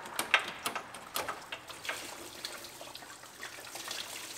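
Coolant trickles and splashes from a disconnected heater hose on a Camaro, a faint, uneven dribble of liquid with small drips and no talking.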